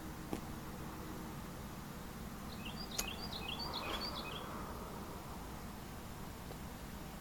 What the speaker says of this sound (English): You guys hear those birds singing?